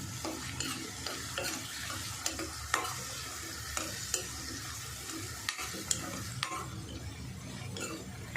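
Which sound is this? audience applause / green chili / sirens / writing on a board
green chili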